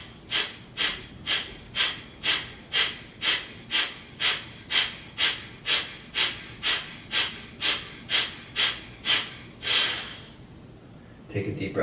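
Breathing during a hatha yoga session: around eighteen quick, forceful, evenly spaced breaths close to the listener, then one longer breath and a quiet pause.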